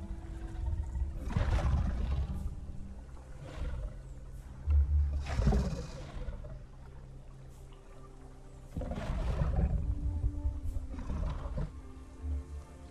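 Roars of a large dinosaur in the Path of Titans video game, sounding much like a lion or tiger: four deep, rumbling calls with breathy rasp, loud and close, separated by short pauses.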